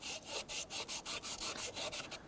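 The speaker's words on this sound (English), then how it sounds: "use a sanding block with some fine sandpaper here" A sanding block with fine sandpaper rubs back and forth on an aluminum exhaust port, a quiet, close, rhythmic scratchy swish repeated about a dozen times in quick even strokes.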